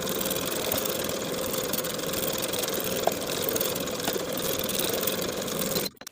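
A sewing machine stitching a 1/2 inch waistline seam on lined cigarette pants, a steady, even motor whir running continuously before stopping abruptly at the end.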